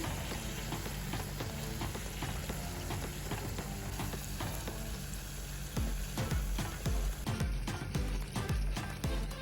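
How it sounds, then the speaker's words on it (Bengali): Luchi, Bengali puffed wheat bread, deep-fries in hot oil for a Durga Puja Ashtami meal. Steady close sizzling and bubbling is broken by clinks and scrapes of a utensil turning the bread, with no voices. "লুচি ভাজা দেখো ধীরে ধীরে লুচিটা ফুলে উঠছে"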